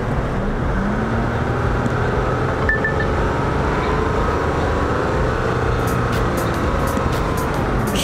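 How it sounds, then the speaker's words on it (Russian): A 2009 Toyota Camry engine, an auction car with 141,000 on the clock, runs steadily at idle, a constant low rumble close by with no talk over it. "Все, мотор работает отлично."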